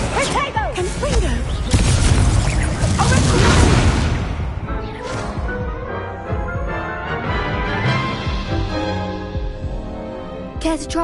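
Confringo blasting spells in a Hogwarts Legacy duel erupt in a dense run of loud booms and crashes over the first four seconds, then settle into a lingering rumble with softer impacts and game effects.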